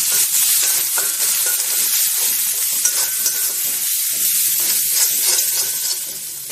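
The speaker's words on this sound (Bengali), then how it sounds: "জিরে গুঁড়ো, ধনে গুঁড়ো ভালো করে কষে নেব।" Cumin and coriander powder fry in hot oil for a chicken curry, a loud, continuous close sizzle with hissing and faint stirring scrapes throughout, no voices.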